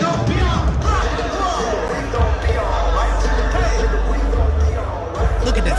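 Huge stadium crowd of about 65,000 at a concert in Mexico, a loud continuous roar of massed voices with heavy booming low rumble, bouncing and jumping along throughout.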